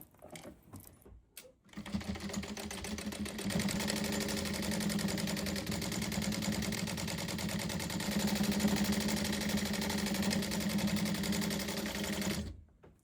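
Pockets are stitched onto a quilt coat by a sewing machine, which whirs in a long, steady run of rapid stitching after a few short starts, close up and alone.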